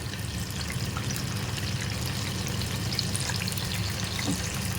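Banana fritters (pazham pori) fry in hot oil with a continuous, dense sizzle and crackle. Faint bubbling and small pops carry through, up close, with no talking.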